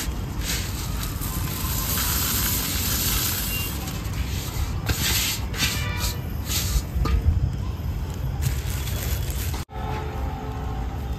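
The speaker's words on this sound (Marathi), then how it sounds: "आता आपण ह्याला आपल्या मेन चाऱ्यामध्ये मिक्स करूया" Crushed poha (flattened rice) being worked into rohu and katla carp bait by hand, a steady close rubbing and kneading rasp that runs almost unbroken, dipping briefly near the end.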